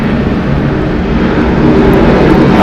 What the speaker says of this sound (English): Arriving here, Delta Airlines Flight 798 from Denver, Colorado.